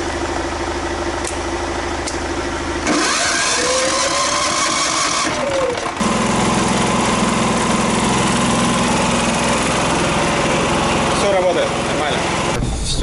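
A portable generator engine runs steadily at a loud, constant drone, with shifting mechanical noise and brief bangs partway through.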